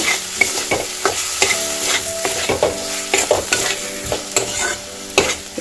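Grated paneer is stirred and fried in a pan of cauliflower and potato curry, with a spoon scraping and knocking against the pan in a repeated rhythm over a soft, steady sizzle, close by and without talk.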